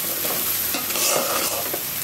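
Ginger and garlic paste fry with rice in a hot pan, giving a steady close sizzle broken by the scrape and stir of a spoon.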